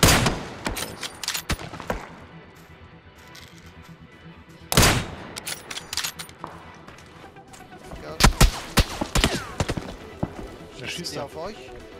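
Gunfire in the PUBG: Battlegrounds video game, a few sharp loud shots and bursts, one strong crack near five seconds and a cluster around eight seconds, heard under frequent excited talk from players.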